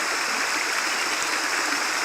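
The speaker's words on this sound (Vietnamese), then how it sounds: "Thác thì chảy quanh năm ngày tháng." Spring-fed waterfall and mountain stream flowing year-round, a dense, steady rush of water close by, loud and unbroken with no voices.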